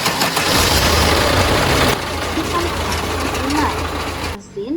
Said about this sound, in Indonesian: mesin berhasil menyala